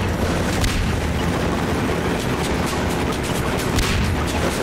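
Bombs exploding in the Half-Life 2 video game: a continuous, loud wash of booming blasts and rumbling gunfire-like bursts that fills the whole stretch with no pause.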